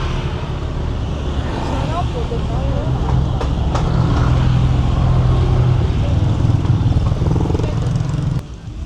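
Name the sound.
street traffic in Patong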